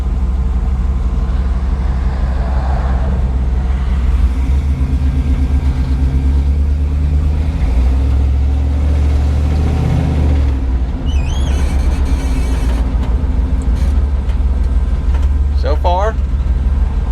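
A truck engine pulling under load on a first drive after a rear main seal replacement: a steady, loud low rumble with rising and falling tone as it runs through the gears, with brief squeals near the end.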